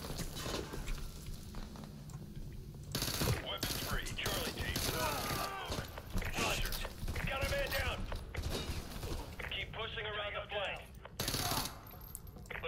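Rapid gunfire rattles through a chaotic firefight in Call of Duty: Modern Warfare 2 Remastered, bursts of automatic fire and sharp shots filling the scene while voices shout under the racket.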